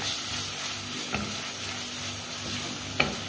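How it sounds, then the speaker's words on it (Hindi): Round gourd (tinda) pieces and onions sizzle steadily in hot oil as they are stirred, with a couple of sharp spatula scrapes against the pan over a continuous low frying hiss. "इसको जरा सा हम भून लेंगे अच्छे से"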